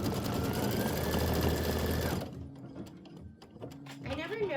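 Home sewing machine running steadily for about two seconds while quilting a block, a dense mechanical whir that stops abruptly, leaving quiet room sounds and a brief voice afterward.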